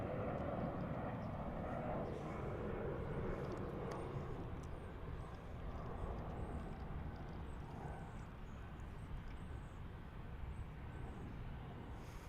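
A Finnair airliner at DFW airport produces a sustained, distant jet engine roar with a broad rumble that lingers evenly for over ten seconds, slowly softening toward the end.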